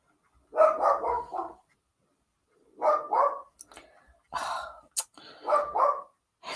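A dog barks in short bursts indoors, three or four separate volleys of two to four barks each, loud and close, with quiet pauses between.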